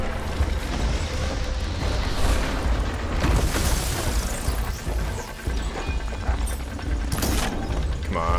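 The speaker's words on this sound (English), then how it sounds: "Get that cannon off now." Heavy booming blasts and crashing impacts from cannon fire in the video game Horizon Forbidden West, dense and loud throughout with layered explosive bursts and clattering mechanical debris, no talking.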